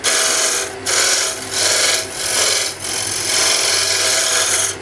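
A roughing gouge cuts into spinning wood on a lathe, making loud, close, harsh rasping in several long passes separated by short pauses, with no talking.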